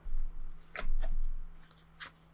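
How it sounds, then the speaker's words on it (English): A brand-new deck of tarot cards is shuffled in several quick, soft riffling bursts, fairly quiet and close, with no talking. "And now we're shuffling a new deck that I had just received today."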